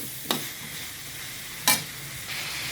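Bitter melon sautéing with soft-cooked tomato in a pan, a steady background sizzle broken by two sharp scraping stirs of a utensil against the pan.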